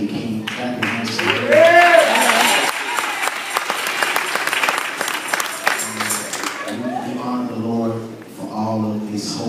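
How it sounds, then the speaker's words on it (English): Church congregation clapping their hands for the pastor's wife, loud sustained applause with a preacher's voice speaking over it at the start and again near the end. "Clap your hands for her."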